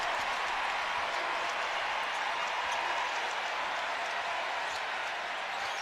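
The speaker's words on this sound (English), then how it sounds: "Listen to this crowd." Basketball arena crowd at a Kentucky game roaring steadily after a made three, a dense continuous wash of cheering and applause with no single voice standing out.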